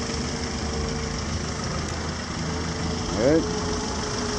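The engine of a 1988 Honda Prelude car runs at a steady idle, close and constant, with a brief swell near the end and someone speaking over it.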